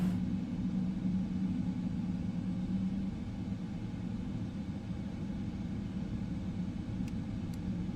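A PMDG 777-200ER jet engine spools up in a flight simulator, giving a continuous low droning rumble with a steady whine layered above it throughout.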